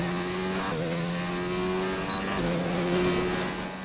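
In the F1 2019 racing game a Racing Point Formula One car's engine holds a steady high tone, dips briefly on braking into a chicane, then climbs again as the car reaccelerates, loud and close throughout.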